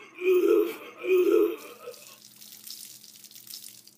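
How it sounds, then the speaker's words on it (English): Two loud, gurgling retching heaves of a puking sound in quick succession, close and wet, followed by a softer trickling, splashing sound of liquid. "First punishment. Puking on you."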